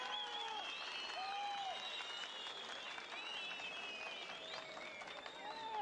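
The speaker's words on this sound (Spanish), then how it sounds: "vamos a brindarle el aplauso al primer toro que clasificó en esta ocasión" Crowd applause at a jaripeo bull-riding tournament in Opopeo, steady clapping from a large audience lasting the whole stretch, with whistles and a tonal cry rising over it.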